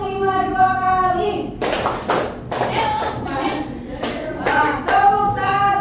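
A classroom group claps together in a patterned rhythm, sharp bursts of clapping in short sets after a stretch of sustained voices, with children's voices and talking mixed in between the claps.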